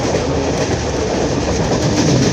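A Howrah–Bardhaman local train on the Main line runs along the rails, giving a loud, continuous rumble and rattle of wheels and carriages from start to end, with no talk.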